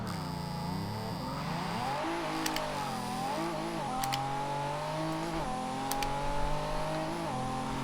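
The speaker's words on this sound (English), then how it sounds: "let's go ahead, launch this, and see just how fast this car goes." A Pagani Huayra from Forza Horizon 2 launches and pulls hard, its engine note climbing steadily through several gear shifts with brief dips, loud and continuous throughout, with faint tire noise and no talk.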